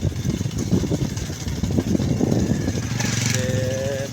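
A motorcycle engine idles and rumbles nearby in a village setting, a low uneven chug rising slightly, with people talking over it and a short tonal whine near the end.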